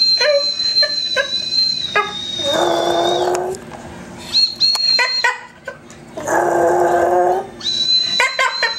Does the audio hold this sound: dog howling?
yes